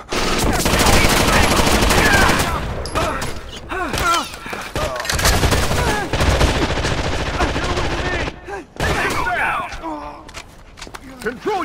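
Loud, sustained gunfire fills a firefight in the tactical shooter Rainbow Six Vegas 2, with rapid automatic bursts and single shots overlapping and brief pauses between volleys, mixed with shouted voices.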